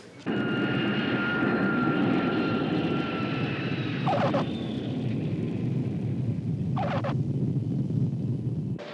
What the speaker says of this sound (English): Flight 205 arriving at gate 43.